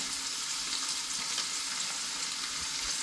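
Steady, close-up sizzling of crappie fillets frying in a hot pan, a dense crackling hiss that holds evenly throughout with no voices.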